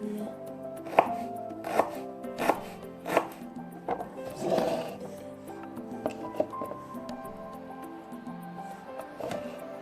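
A knife slices ginger on a cutting board in a steady series of sharp chops, about one every second, close and clear, followed by quieter scraping and handling.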